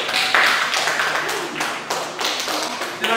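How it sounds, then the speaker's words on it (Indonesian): A classroom group applauds after a biology presentation on river water pollution, with a dense, steady patter of overlapping hand claps that carries on without a break. "tolong diberi tepuk tangan dulu ya"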